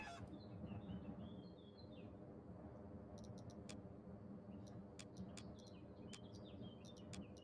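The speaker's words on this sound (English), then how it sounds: "Somebody just killed a chicken. I just heard a chicken die." A chicken dies in a video game, heard as faint, high chirping clucks and a few sharp ticking clicks over a steady low hum, with no talking.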